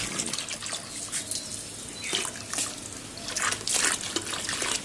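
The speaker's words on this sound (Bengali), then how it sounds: "এই বালতিগুলো ভরবো আর এই জল পড়ছে" Tap water pours steadily into buckets at home in the early morning, a continuous close splashing rush that swells and eases, with no one speaking.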